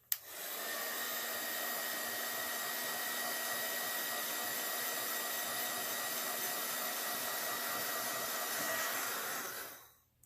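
A hair dryer blows steadily over painted wooden flower box pieces, a loud, even airy roar that switches on abruptly, holds for about ten seconds, then cuts off.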